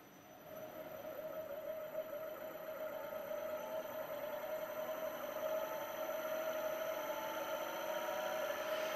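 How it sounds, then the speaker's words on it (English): Electric motor in good condition running steadily on a demonstration rig for predictive maintenance, a constant hum with a strong tonal whine, unchanging and fairly close, alone with no talk. "So now Motor is running."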